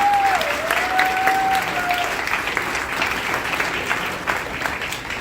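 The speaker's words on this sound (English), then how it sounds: "If we could give everybody, all of our candidates, a round of applause." An audience applauds the candidates at a Whitfield County sheriff forum, sustained dense clapping in an indoor hall that slowly thins, with a faint whistle early on.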